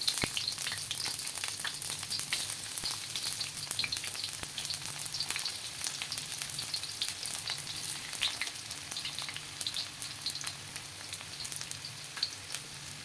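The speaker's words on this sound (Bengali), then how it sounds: "করলা ভাজির জন্য প্রথম ফার্স্ট দিয়ে দিলাম সরিষার তেল। এখন দিব রসুন" Garlic fries in mustard oil in a pan for bitter gourd, a constant crackling sizzle with dense small pops, close and fairly loud, with no voices.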